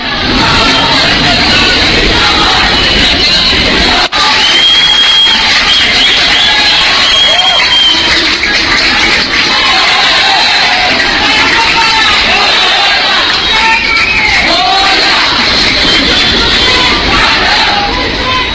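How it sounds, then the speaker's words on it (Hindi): Large street crowd in Andheri celebrating the Chandrayaan moon landing, a loud continuous roar of cheering and shouting voices with whistles, close and dense throughout. "चंद्रयान चांद पर उतरा, उसके बाद अंधेरी में भीड़ देखिए और लोगों का रिएक्शन सुनिए।"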